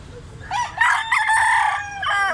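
A three-year-old rooster at a market in Carbon, Cebu, crows nearby, one long raspy cock-a-doodle-doo rising and stretching out, with a short follow-on call at the end over quiet background.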